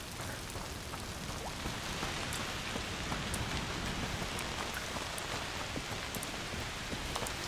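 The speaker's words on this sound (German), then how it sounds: "Regen." Steady rain falls in A Plague Tale: Requiem as a constant broadband hiss with scattered drop patters, holding the same even level throughout with no voices.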